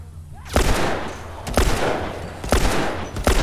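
Gunfire in The Last of Us, four sharp, loud shots spaced about a second apart, each with a booming echoing tail over a low ambient rumble.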